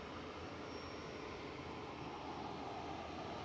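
A Jet2 Boeing 737-300 at Manchester Airport produces a steady, broad jet engine roar, moderately distant and constant throughout, with no talk.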